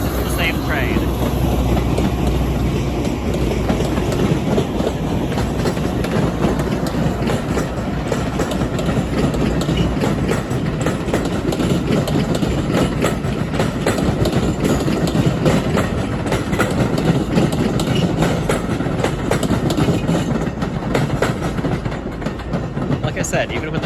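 A Metra commuter train rumbles past at close range near Roosevelt Road with steady clattering wheels and engine drone that holds for the whole stretch, and no voices are heard.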